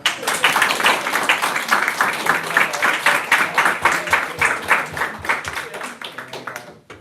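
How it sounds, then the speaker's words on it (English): Audience applause following a guest genomics lecture at Purdue, dense steady clapping from a room full of people that holds for several seconds before tapering off near the end. "If you could give a big round of applause."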